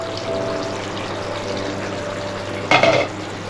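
Dahi aloo curry simmers in a pan, a soft steady bubbling hiss, then a spoon stirs it with a short clatter near the end.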